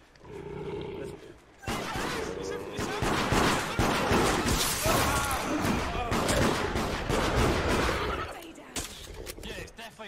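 Gunfire in the video game Deceit comes as dense, loud bursts of shots and roaring noise that sustain for several seconds, with voices heard talking over it.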